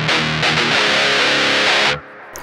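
A heavily distorted electric guitar chord through an Orange Crush 35RT amp with effects pedals and cab simulation rings out loud and thick for about two seconds, then cuts off abruptly, leaving a faint tail.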